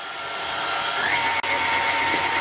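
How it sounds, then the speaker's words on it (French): An electric hand mixer kneads msemen dough of flour and water in a bowl, giving a steady, loud broadband whir throughout, with one brief dip in the middle and no talking. "je récupère le batteur, je verse l'eau et je viens pétrir pendant environ 4 à 5 minutes"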